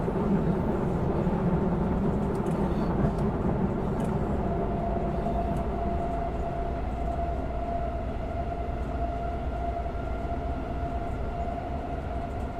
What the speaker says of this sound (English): The sound design's great, the sound of the train and the curve's pretty realistic.